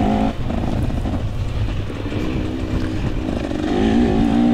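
A 2024 KTM 300 dirt bike engine drones loud and close during a woodland hare scramble race at Oak Ridge, holding a steady rough tone before its pitch climbs toward the end.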